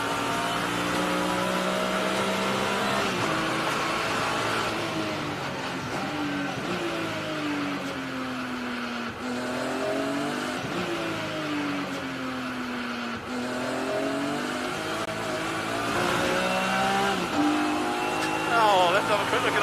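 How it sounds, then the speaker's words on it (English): A race car engine on track revs and pulls hard under throttle, its pitch climbing and dropping repeatedly through gear changes and corners, loud and continuous from start to finish, with no talk. "I'm getting on the throttle to turn the car"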